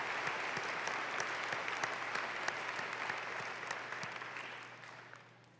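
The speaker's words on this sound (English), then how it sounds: "Let's give all of these folks a round of applause for their help and participation today." Applause from a large audience at the Eastern Illinois University commencement ceremony, a sustained roar of clapping with a few sharper individual claps standing out, gradually fading over the last second or two.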